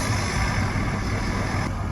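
Cabin noise inside a moving Skoda Octavia vRS 2.0 TDI with a stripped rear, a loud, steady broadband road and engine rumble with no talk.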